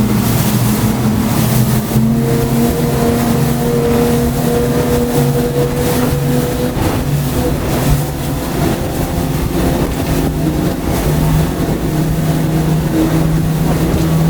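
A loud, steady roar of twin 300 hp Yamaha outboard engines at full throttle on a new 28-foot Freeman boat, with rushing wind and water noise throughout.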